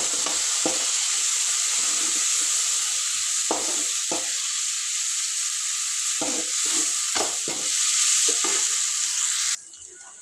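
Spice paste fries in a pan for a chicken liver fry, and a spoon scrapes through it in irregular strokes over a steady sizzle. The frying cuts off abruptly at the end.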